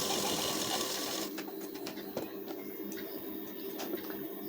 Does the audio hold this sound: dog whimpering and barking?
no